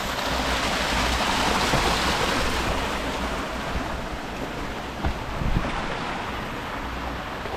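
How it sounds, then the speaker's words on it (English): River crossing beside a small waterfall in the Dolomites, a loud continuous rush of tumbling water with wind buffeting the microphone and a couple of brief knocks. "River crossing and a little waterfall can mean only one thing."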